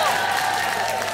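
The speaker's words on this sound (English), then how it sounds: "Ladies, this is the part where you should be clapping." Audience applause in a comedy show setting, a steady wash of many hands clapping held loud and even for the whole short stretch, with a voice faintly beneath it.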